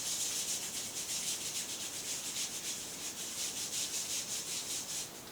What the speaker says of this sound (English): And rub the soles of the feet together in the palms of your hands.